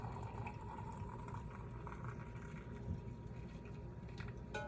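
Boiling frankincense tea poured steadily from a pot, a faint, continuous trickle and splash of liquid over a low background hum.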